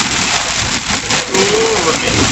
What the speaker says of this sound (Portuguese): Vamos pegar a baita chuva aqui